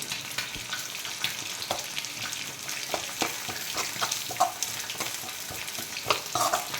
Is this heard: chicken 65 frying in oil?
yes